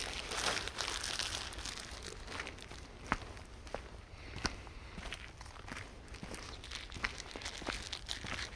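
Two plastic bags picked up and crumpled outdoors during low-cost bushcraft, giving faint crinkling and rustling with a few sharper crackles and footstep-like crunches throughout.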